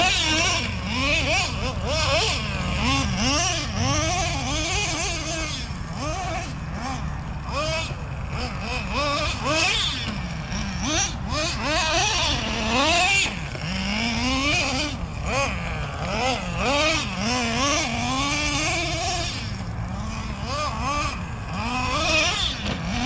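Nitro Slayer nitro-powered RC car engine running and revving, a high buzzing whine that rises and falls repeatedly in rapid sweeps, continuous and fairly close.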